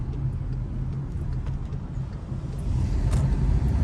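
A 2015 Volkswagen Passat driving and turning, heard from inside as a steady low road and engine rumble that swells slightly toward the end, with no talk.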